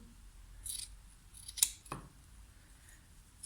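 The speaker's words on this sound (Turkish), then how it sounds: "Şimdi kemerimizin fazlasını kesiyorum." Scissors trimming excess fabric from the waistband of a flared skirt, a couple of quiet, crisp snips with soft rustling between them in an otherwise calm room.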